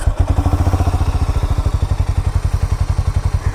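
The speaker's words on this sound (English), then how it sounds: "let's also hear the exhaust note" A Harley-Davidson X440 T motorcycle idles close by, its exhaust thumping in a loud, steady, rapid pulse of deep beats that runs unbroken throughout, with no voices.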